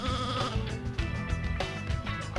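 Sheep bleat repeatedly in the Sheep Raider video game, wavering calls laid over looping game music, fairly faint and continuous.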